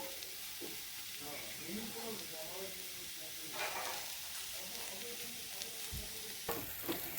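Papaya curry fries in a pan with a pinch of cumin powder and no added water, giving a soft continuous sizzle with intermittent stirring scrapes and a couple of sharper clinks near the end.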